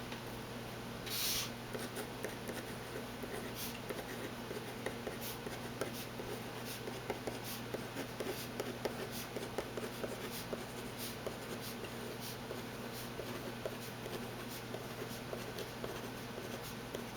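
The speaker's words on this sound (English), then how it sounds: "So, now on with the writing." A Uni-Ball Insight pen writes on paper with soft, quiet scratching strokes that come in short irregular bursts against a faint steady room hum.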